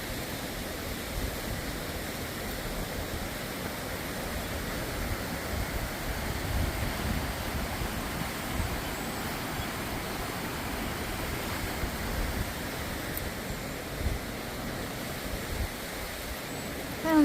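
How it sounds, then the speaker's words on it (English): The French Broad River runs fast below a trail crossing on the Appalachian Trail, giving a steady, dense rush of flowing water that stays even and close throughout, with no voices. "And we're just now crossing the French Broad River."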